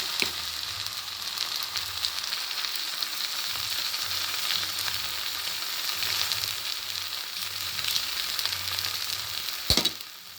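A Nellore kara dosa cooks on a pan with oil, giving a steady close sizzle and crackle that holds throughout, with a sharp clank near the end.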